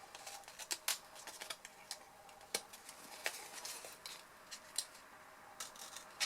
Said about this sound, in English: we're going to cut these up this way, and then we're going to cut some wedges off them